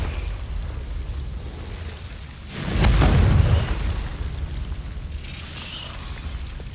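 Confringo blasting spell in Hogwarts Legacy erupting as a single loud, deep explosion that swells and rumbles for about a second before fading into quiet ambience, with no talk.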